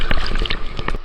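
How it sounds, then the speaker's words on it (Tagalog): Ocean waves break and wash close by at a fishing spot, a dense churning rush of water with splashing bursts, loud and continuous with no talk. "Grabe, ang lalaki ng alon dito."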